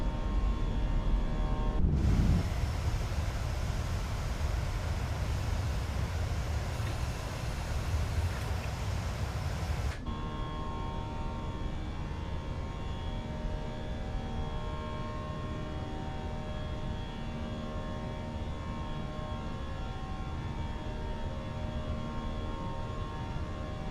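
A British Airways A319 jet climbs after takeoff in a flight simulator, a steady broad engine roar with a constant tonal hum, loud at first and then slightly lower and even.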